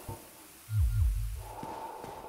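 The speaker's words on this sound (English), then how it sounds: "you can hear Artorias breathing. That is him breathing." Deep, heavy breathing from the boss Artorias in the Dark Souls video game, a low snorting inhale and exhale close by, followed by a quieter rasping breath, with no talk over it.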